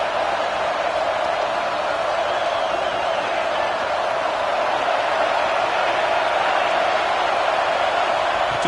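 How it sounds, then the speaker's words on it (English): A packed college football stadium at Ohio State versus Penn State roars with crowd noise, a loud, unbroken wall of massed voices holding steady for the whole stretch without letting up. "listen to this crowd noise. This stadium is vibrating"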